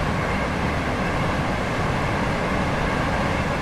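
Train Sim World 6 video game train running on a UK Essex route, heard as a steady, dense rumble of wheels and engine, continuous and fairly loud throughout with no voices.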